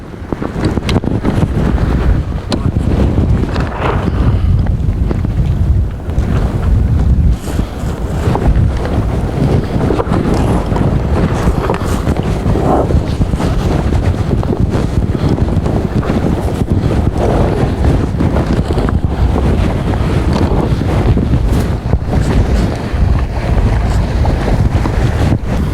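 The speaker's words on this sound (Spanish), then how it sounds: "El viento está subiendo de intensidad." Strong, steady wind roars across the microphone aboard a sailboat, a constant rushing buffet with water washing under it and no voices.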